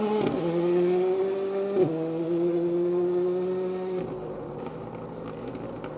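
A Ford Escort Cosworth rally car drives a stage of a 4WD rally, its engine holding a steady droning note that dips briefly twice as the driver shifts, then fades as it moves away.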